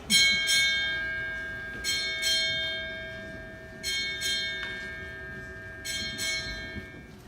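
A ship's bell rings eight times, struck in four evenly spaced pairs, each clear ring lingering before the next, marking the start of a Moby Dick reading marathon.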